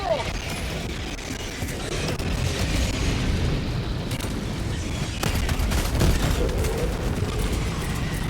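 Grenade blasts and gunfire in the video game Helldivers 2 make a dense, loud battle din of rumbling explosions and rattling shots, with game voices shouting over the chaos.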